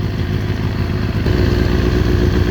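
A 2000 Kawasaki ZX6R engine during carburetor balancing, a loud close clattering idle that rises into a rough rev partway through and holds there, with no voices.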